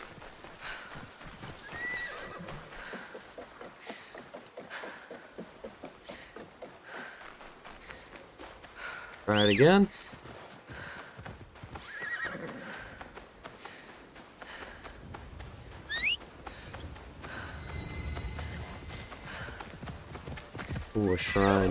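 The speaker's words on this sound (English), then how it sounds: "Call in the horse." A horse in Assassin's Creed Shadows whinnies and clip-clops in repeated hoofbeats as it is called in, mixed with game effects and someone talking over it.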